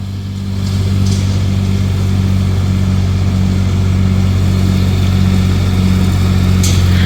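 A tractor engine on a farm, used for brush hogging, runs loud and steady close by for the whole stretch, a continuous mid-pitched rumble with no clear revving changes.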